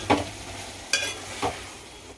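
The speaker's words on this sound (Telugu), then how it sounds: "టమాటా పచ్చిమిరపకాయలు మంచిగా మగ్గుతున్నాయి" Tomatoes and green chillies cooking in a pan for a mint roti chutney, heard as three short, close stirring and sizzling bursts spaced about half a second apart, with no talking.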